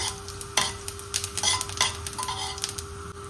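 Cinnamon, cloves and cumin fry in hot oil in a pan, a steady sizzle under repeated scraping and stirring clinks of a spoon against the pan, close and fairly quiet.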